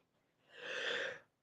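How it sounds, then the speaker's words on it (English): One sharp sneeze bursts out close to the microphone during a live chat stream, a single breathy blast lasting under a second with no talking around it. "I'm going to sneeze, maybe."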